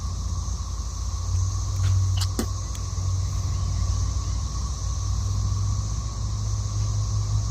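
A freight train locomotive backs up to gondola cars in Abbeville, a low steady diesel idle rumble with a constant hum, joined briefly by a few sharp metallic clanks near the middle.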